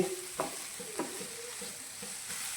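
Onion and tomato stirred and fried in a pan, a soft steady sizzle with a couple of sharp spoon scrapes early on and gentler stirring after.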